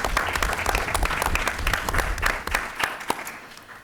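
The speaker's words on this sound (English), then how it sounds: "Let's give another round of applause for all their great work." Sustained audience applause at a presentation on oral histories and African American history curriculum, a dense steady clatter of many hands that thins slightly toward the end.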